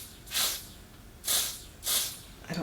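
Three short, close hissing bursts of Air Flash Radiance Mist facial spray, evenly spaced about a second apart, then the start of a fourth at the end, with quiet between them.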